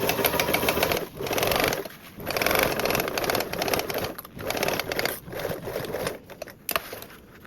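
Sewing machine stitching a seam along a fabric duffle bag, running in long bursts of steady mechanical whirring with short pauses between them, close and fairly loud with no talking.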